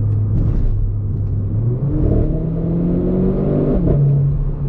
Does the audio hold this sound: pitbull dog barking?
no